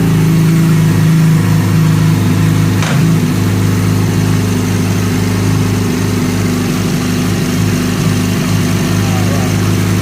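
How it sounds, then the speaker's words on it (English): A 2008 Yamaha R6 sport motorcycle engine running in neutral, a steady loud idle hum with a brief blip around the third second, voices talking faintly over the engine. "Start up the engine."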